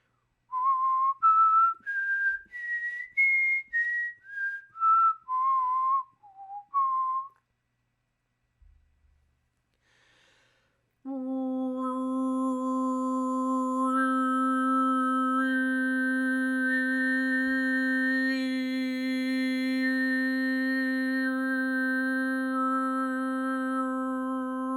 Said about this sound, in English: overtone singing simply employs your ability to filter vocal sounds in very specific ways to create whistle-like melodies